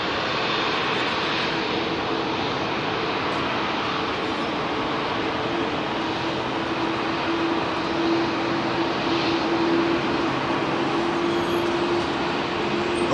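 A Delta Boeing 767-400 taxis out at London Heathrow, a steady, fairly distant jet engine whine and rumble holding level throughout with a faint tonal hum, no voices.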